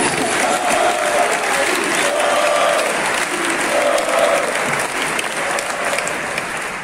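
A crowd at a book presentation applauds deputy Victoria Villarruel, dense continuous clapping holding at an even, fairly loud level throughout.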